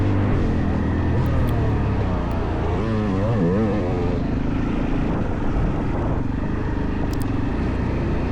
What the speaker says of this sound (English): Here's Cash on his four-wheeler